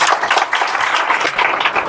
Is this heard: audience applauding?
yes